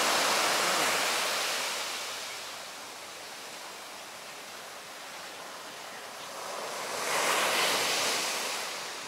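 Steady roar of ocean surf washing onto Red Beach in Tangalle, Sri Lanka, swelling and easing as small waves break, with no talking.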